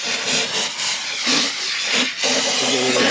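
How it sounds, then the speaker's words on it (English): Brake cleaner sprayed from an aerosol can inside a Mitsubishi Evo 8 Moroso engine sump, a steady close hiss running throughout in bursts of varying strength. "I'm just going to give it a bit of a brake clean inside."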